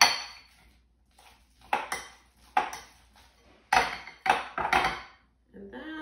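A fork mashes banana in a bowl for banana bread, making a string of sharp metallic scrapes and clinks against the dish in irregular bursts, with a voice briefly heard at the end.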